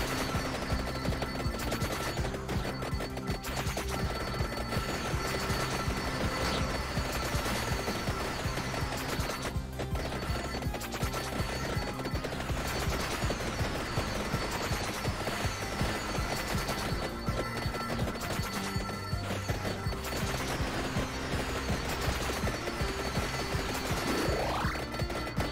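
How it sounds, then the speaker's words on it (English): Rapid bursts of explosions from the rune caster weapon in the Vampire Survivors video game, shots firing out and bursting into purple fireworks, crackling continuously and densely over layered game music and effects. "it must be the explosions from the rune caster"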